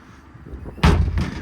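A single heavy door on a 2016 Kenworth T270 truck slams shut with a loud, close thud, followed by a brief rattle as it latches.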